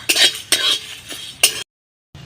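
Whole cumin seeds fry in a pan while a utensil scrapes and stirs them in four short bursts, each a close, rough scrape, followed by a brief silence and a faint final touch.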